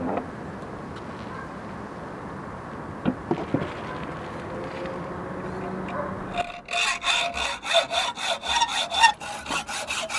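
A hand saw cuts excess steel off a knife blank, first a low rasping scrape and then a fast, loud, regular back-and-forth sawing rhythm close to the listener, with no talking.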